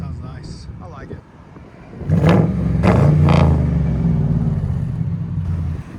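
A 2004 Mercury Grand Marquis with a 4.6L V8 and Dynomax Race Bullets exhaust revs up close, loud and deep, its rumble swelling and holding steady after a few seconds of people talking over a quieter idle.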